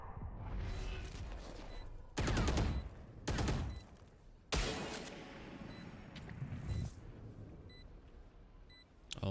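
Gunfire from the video game Valorant, with several loud broadband bursts of shots coming in clusters, plus faint in-game beeps and background game noise. No voices are heard.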